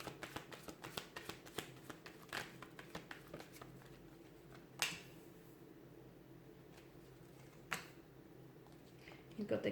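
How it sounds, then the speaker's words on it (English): Tarot cards being shuffled by hand, a run of quick papery riffles and taps through the first few seconds, then sparse sharper card slaps under quiet room tone, with soft speech-like murmurs in the background. "let's give the cards a shuffle"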